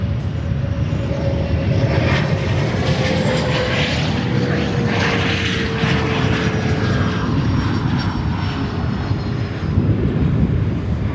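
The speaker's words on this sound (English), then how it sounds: "on runway 9, United flight 973 coming in from Brussels in Belgium on a 787-10" Loud, continuous engine roar of a United Boeing 787-10 Dreamliner arriving from Brussels as it lands on runway 9 at Chicago O'Hare, with a steady droning whine throughout.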